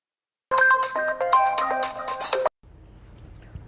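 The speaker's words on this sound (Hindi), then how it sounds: "बेल जा रही है।" Outgoing phone call ringback heard as a loud, melodic electronic ringtone playing for about two seconds, then cutting off to faint background hiss.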